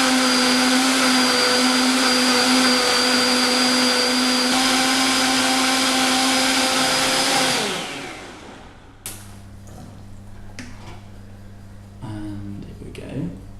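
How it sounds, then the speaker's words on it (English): A kitchen blender runs loud and steady for about seven seconds, a high whirring motor grinding ingredients, then cuts off and leaves quieter kitchen clatter and some light handling noises. "Oh look, I've put them in a blender. Oh no, wait, I'm now pulverizing them."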